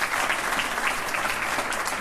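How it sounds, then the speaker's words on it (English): A round of applause from a crowd at an official San Antonio Tricentennial New Year's Eve announcement, dense and even clapping from many hands, loud and continuous throughout. "Let's give a round of applause"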